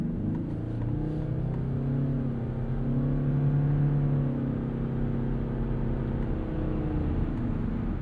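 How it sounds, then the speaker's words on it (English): A 2025 Toyota Crown Signia wagon drones steadily under acceleration, a low, even engine hum heard from inside the cabin at moderate level, with faint road rumble and no talking. "You always get a lot of drone upon acceleration"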